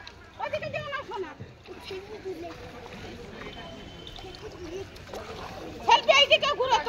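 Water splashes and sloshes as Ganges river water is scooped up, a close, uneven churning mixed with nearby voices talking, growing choppier near the end.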